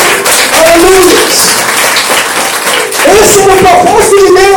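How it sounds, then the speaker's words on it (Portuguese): A congregation at an Assembleia de Deus church service claps steadily in praise, a dense, continuous patter that runs the whole time beneath raised voices. "vamos dar uma linda salva de palmas para Ele"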